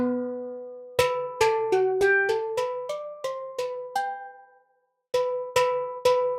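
Struck tones from the Soundpaint Caisa drum virtual instrument, a tuned steel handpan, played alone: about a dozen bright, ringing notes in a steady run, each decaying, then a pause and three more strikes.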